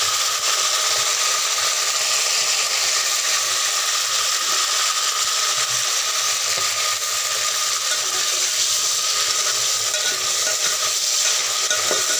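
Chopped potatoes go into browned onions frying in a pan for tarri rice, a loud, close, unbroken sizzle and hiss with faint stirring throughout.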